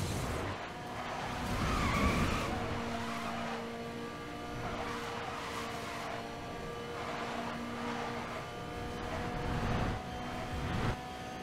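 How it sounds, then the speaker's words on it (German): Racing car engines in Need for Speed: Most Wanted roar and whine at high revs, shifting pitch as several cars rush past one another in a steady, loud stream of motor noise. "Hört richtig die Autos dabei rauschen."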